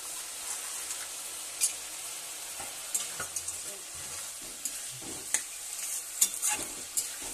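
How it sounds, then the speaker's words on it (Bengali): Fried khesari lentil dumplings (bori) tumble into a sizzling curry pan of yardlong beans, peas and potatoes. A steady close sizzle runs throughout, broken by scattered clinks and scrapes of stirring, with no talking. "এবার ভেজে রাখা বড়িগুলো দিয়ে দিচ্ছি।"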